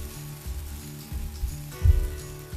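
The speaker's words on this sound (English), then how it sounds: "I'll be frying without closing my lid and keep it on stirring in between." Cluster beans frying in an open pan, a steady sizzle with occasional stirring scrapes and bursts of crackle, close and continuous.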